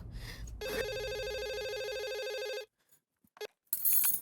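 A telephone rings loudly in a steady electronic trill for about two seconds, then falls silent, followed by brief faint sounds and a burst of noise at the end, with no talk.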